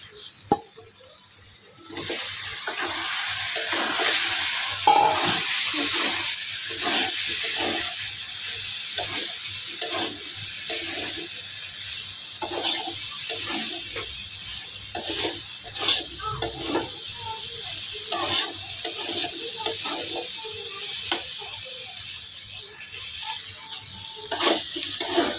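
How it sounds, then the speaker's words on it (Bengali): Soybean chunks and potatoes fry in a pan under a steady sizzle while a spatula stirs and scrapes in repeated close strokes, continuing busily for a long stretch. "এদিকে আমি আলুটা আর সয়াবিনটা ভালো দিয়ে কষাই নিয়েছি।"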